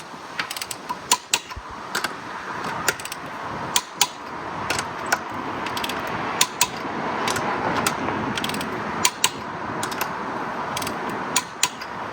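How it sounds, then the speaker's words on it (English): A torque wrench on a BMW M3 tightens wheel bolts to 140 Nm, giving a string of sharp, close ratcheting clicks in irregular bursts over a steady mechanical background. "I've got this torque wrench now set to 140 Newton meters"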